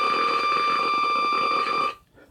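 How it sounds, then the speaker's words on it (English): Portable Nuclear Enterprises PCM5 contamination meter with an alpha/beta dual probe giving a steady, loud electronic beeping tone on alpha particles, sustained for about two seconds and then cutting off abruptly. "beeps are alpha particles."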